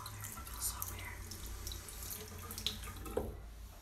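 Tap water runs steadily into a sink to dampen a makeup blending sponge, a soft continuous stream with a couple of brief splashes near the end.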